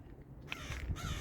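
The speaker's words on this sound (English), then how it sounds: "I just heard some birds." A crow caws a couple of times, harsh and fairly close, with a low background rumble and no speech.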